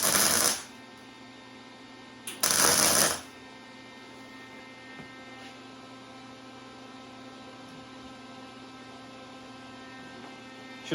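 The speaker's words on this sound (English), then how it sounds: "This is what we're gonna be welding together first" A VZ-61 Skorpion receiver is welded without shielding gas, with two short bursts of harsh crackling arc noise, the second slightly longer, followed by a steady electrical hum.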